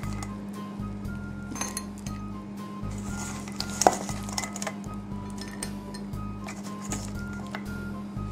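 Light clinks of glass and utensils as rum bread pudding goes into a baking dish, soft scraping and squishing under a steady low hum, with one brighter clink midway.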